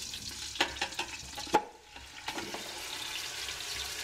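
Meat frying in ghee for chorba frik, a steady close sizzle with scattered sharp stirring clatters against the pot, no talk.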